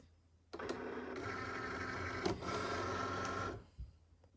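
A cutting machine set for vinyl works through a sticker sheet, its motor whirring and whining steadily for about three seconds after a click, with a short break midway and a thump as it stops, and no voices.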